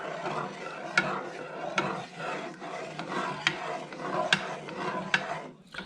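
A spoon stirs and scrapes a thick, creamy roux in a pot, with steady rubbing strokes and occasional sharp clicks against the bottom, close and fairly quiet.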